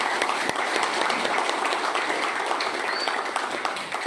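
An audience applauds at a company event for PT-PTI, a steady dense wash of clapping holding for the whole stretch with no voices over it.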